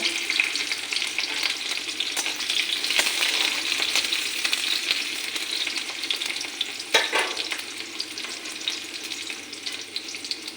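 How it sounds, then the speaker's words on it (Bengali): Green chilies fry in hot oil in a home kitchen while making a Maggi vegetable soup: a bright continuous sizzle with sharp crackles and pops, briefly louder as they are stirred, close by and with no talking. "তেলটা গরম হয়ে গেছে কাঁচা লঙ্কা"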